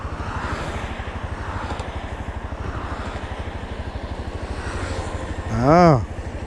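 A small drone launched from the hand beside the NH44 highway, its steady buzzing motor hum rising briefly in pitch as it takes off, close and loud, with someone talking over it.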